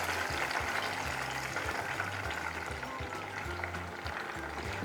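Small Thai lady finger bananas deep-frying in hot oil make a steady, close sizzle and crackle that carries on evenly throughout, with faint scraping or clicking sounds underneath.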